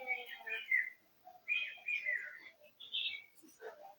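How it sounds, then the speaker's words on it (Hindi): Small birds chirp faintly in the distance, a few short bursts of twittering separated by brief pauses. "बाहर से चिड़ियों की चहकने की आवाज आ रही है"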